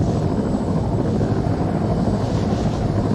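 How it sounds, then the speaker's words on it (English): A Vietnam-style transport helicopter in Arma 3 drones loud and close with a steady, continuous rotor and engine roar that holds at an even level throughout, with no voices over it. "it's more of a Vietnam style chopper"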